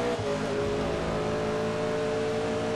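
Race car engine in DTM Race Driver 3, an HPDC V8 Supercar, held at full throttle with a steady loud droning roar and constant harmonic whine throughout, no talk.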